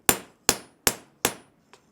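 A hammer with a deliberately scarred, textured face strikes a kitchen knife blade during forging: four sharp, ringing metallic blows at an even pace, then a fifth, lighter tap, close and alone.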